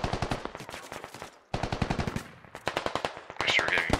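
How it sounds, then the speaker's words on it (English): Machine gun suppressing fire in the Squad tactical shooter game: loud, rapid automatic bursts in a steady rhythm, broken by a brief pause, then resuming with sharper, brighter shots toward the end. "While they're suppressing fire."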